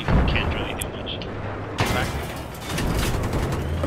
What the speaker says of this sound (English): I'm getting hit by a tank